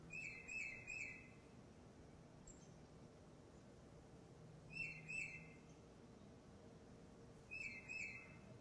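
Backyard songbird singing from a recording, seen in flocks with chickadees and nuthatches: three bursts of clear, high whistled notes a few seconds apart, fairly faint over low background hum.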